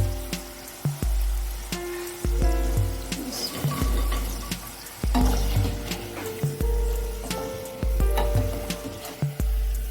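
Potato French fries in hot oil give a sizzling hiss that rises and falls as batches are lifted out of the pan and drained, with repeated clanks of a metal utensil against the pan.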